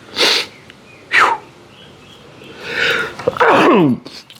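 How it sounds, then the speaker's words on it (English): Outdoors, a person with allergies sniffs and inhales sharply a couple of times, then lets out a loud, close sneeze at the end. "Oh my God, I'm gonna sneeze."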